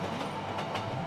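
A train rolls past in an animated film, a steady rumbling wash of rail noise with a faint rhythmic clatter, heard alone and close.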